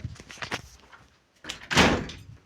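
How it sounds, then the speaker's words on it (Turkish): A door closes in a Turkish horror video game, a loud solid thud-and-swing near the end after some quieter rattling and shuffling, close and prominent. "Evet kapıyı da kapattım."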